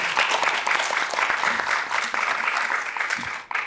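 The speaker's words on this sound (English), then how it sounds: "So maybe a round of applause for all the panelists for this wonderful thoughts that they've shared." Audience applause for panelists at a Sikh research summit, a steady wash of many hands clapping at moderate distance that fades out abruptly at the end.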